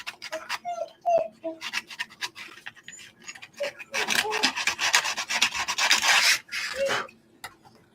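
A 3D-printed part for an RC truck body is hand-sanded in short, close rasping strokes that build into a denser stretch of rubbing, with a few faint voice-like sounds mixed in.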